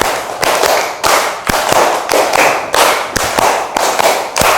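A classroom of seated students claps together in rhythm, loud and close, with sharp unison bursts falling in groups of strong beats over several seconds.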